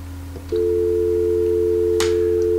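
Polycom 450 VoIP phone gives a steady continuous tone after its conference button is pressed, starting half a second in and holding clean and loud, with a faint click near the start and a short tap partway through.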